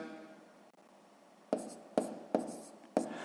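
Numbers being handwritten for column multiplication in a 6th-grade math exercise: soft pen scratching, then four distinct short strokes spaced about half a second apart, close and quiet.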